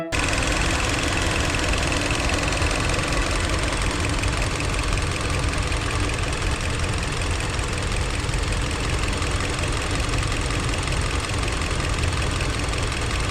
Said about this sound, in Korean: 엔진 소리는 원본으로 들려드릴게요.